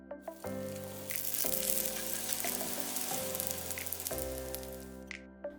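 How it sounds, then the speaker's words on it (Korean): Dumplings, twenty-three of them, pan-fried in plenty of oil heated over medium-low, sizzle steadily and loudly up close, a dense crackling hiss that holds throughout with slight swells and no voices. "기름 충분히 두르고 달궈지면 만두 23개 노릇노릇하게 지져내고"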